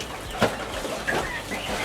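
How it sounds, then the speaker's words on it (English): Farmyard quail making short chirps and clucking calls, a few brief calls spread over a couple of seconds against a faint background hum. "we'll put the quail in with this one baby quail that we've got"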